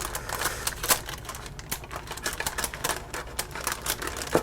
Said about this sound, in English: just with a pair of kitchen scissors, cut down close to the edge of that paper